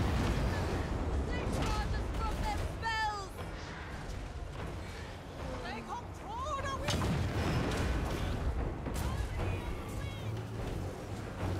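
Cannons fire in a Total War: Warhammer 3 battle, booming and rumbling in a dense, continuous barrage with scattered impacts, heard alongside busy battle noise.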